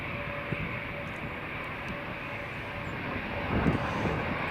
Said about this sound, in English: there's the Aegean taxiing in